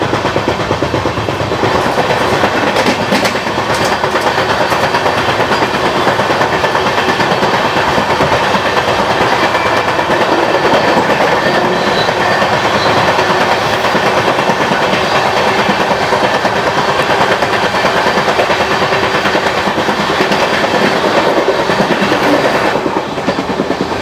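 Continuous loud rumble and rhythmic clickety-clack of the Tamil Nadu Sampark Kranti Express running at speed while overtaking another train, heard from on board, steady throughout with no talk.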